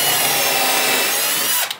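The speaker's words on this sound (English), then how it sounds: "And right here's where I'm going to be drilling in." A power drill boring into wood for open shelving in a home workshop, a steady loud whir running continuously and then stopping abruptly near the end.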